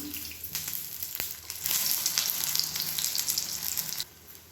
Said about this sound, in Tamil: மீடியமான ஃப்ளேமில் வேகட்டும்.